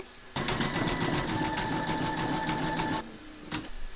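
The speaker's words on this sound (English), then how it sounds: "Pop your hoop into your machine and stitch round number four, and that's going to zigzag the edge" An embroidery machine zigzag-stitches the edge of an appliqué in the hoop, a fast even mechanical chatter running steadily for about three seconds before stopping abruptly, followed by a brief short burst.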